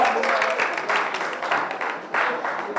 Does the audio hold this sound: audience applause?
yes